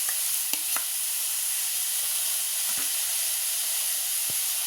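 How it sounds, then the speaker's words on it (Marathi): Chili sauce hits vegetables in a hot pan over high heat, giving a steady, loud frying sizzle and hiss that runs unbroken throughout, with a few faint clinks of stirring underneath and no talking. "प्रथम मी चिली सॉस घालतेय."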